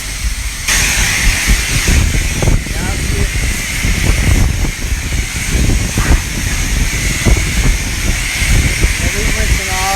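A car is rinsed with a water spray after washing, a loud continuous hissing spray that shifts in intensity as the stream moves, with someone talking over it.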